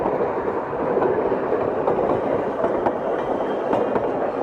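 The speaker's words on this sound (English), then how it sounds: "And the old electric train comes by." An old electric tram on the Isle of Man passes close by, a steady loud rolling rumble with rhythmic clickety-clack of wheels over rail joints throughout, no voices.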